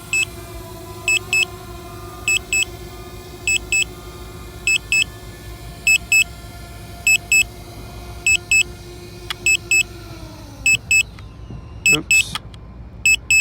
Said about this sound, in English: I don't know what this beeping sound is. It's super annoying.